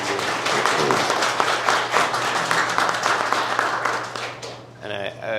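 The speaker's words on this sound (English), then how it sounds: "I certainly want to give him a round of applause" An audience claps for a professor at a Howard University grant event, sustained applause that fades toward the end as a voice begins speaking over the dying claps.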